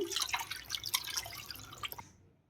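Raw chicken pieces are rinsed in water in a kitchen bowl, giving close, busy splashing and dripping for about two seconds before it stops.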